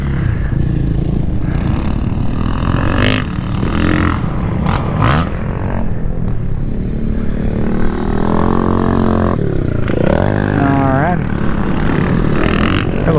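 A pit bike engine revs at a creek riding spot, its buzzing motor rising and falling through several throttle blips over steady wind and rumble, with a person talking over it.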